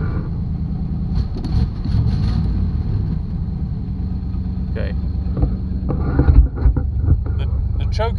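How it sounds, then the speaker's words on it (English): A 1984 two-door Chevy Caprice engine runs steadily on choke, settling down toward idle, with a continuous low rumble and some wind buffeting on the microphone. "Choke is hanging in there, but it's getting close to idling."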